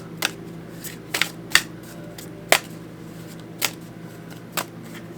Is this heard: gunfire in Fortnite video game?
no